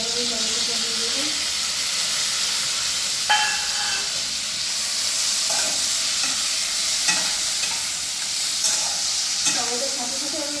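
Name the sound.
tomato added and stir-fried in pan for vegetable curry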